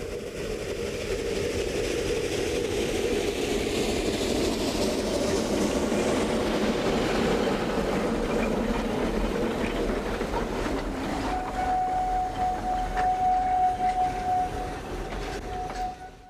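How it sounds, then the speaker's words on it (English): A narrow gauge steam train of the Roaring Camp and Big Trees Railroad pulls away from its depot in the Santa Cruz Mountains near Felton, with a steady rumble and clatter of cars and a long, sustained whistle tone toward the end. "a morning train departs the depot of the Roaring Camp and Big Trees Narrow Gauge Railroad"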